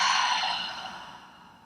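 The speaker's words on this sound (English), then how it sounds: "Open mouth, exhale." A single long breath pushed out through an open mouth, close and breathy, fading steadily over under two seconds with no talking.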